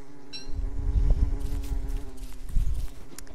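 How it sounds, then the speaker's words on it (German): Bees buzzing in the video game Don't Starve, a low droning hum that swells and fades in uneven pulses, fairly close, with light clicks and rustles over it and no talking. "die Bienen nerven vielleicht"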